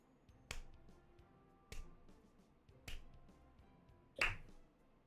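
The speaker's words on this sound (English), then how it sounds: "Slow clap." A slow clap during a tabletop role-playing session: four sharp, isolated claps spaced roughly a second apart, close and crisp against near silence.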